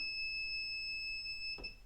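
A Kaiweets circuit breaker finder held at an electrical panel gives off a steady, piercing electronic tone that holds for almost two seconds, clean and close, with faint handling noise near the end.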